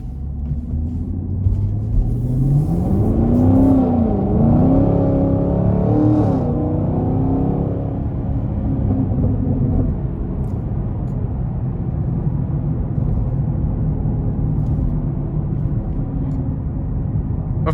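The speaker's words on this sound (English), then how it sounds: "next we're gonna take this LT1 out on the road for a test drive" A 2020 Chevy Camaro LT1 with a 6.2-liter V8 driving on the road, a steady low engine rumble that rises in pitch through an early acceleration and then settles into a continuous cruise.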